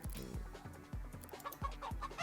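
Chicken clucking in the video game Fall Guys: Ultimate Knockout comes as a steady run of about six short, low, bouncy clucks at an even pace, clear and up front over quiet game ambience.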